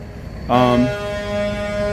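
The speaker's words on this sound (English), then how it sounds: "Not sure why someone's honking like that." A car horn blares from a short way off, one sustained tonal honk that starts suddenly and holds on steadily to the end.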